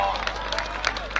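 A crowd applauds two wrestlers at a wrestling match, with short scattered claps and a murmuring hubbub heard up close over a low steady hum.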